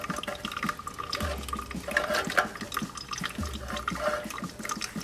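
Water drains and trickles out of an old Suffolk engine left sitting outside, a steady splashing flow with gurgles and a couple of low thuds, close and moderately loud.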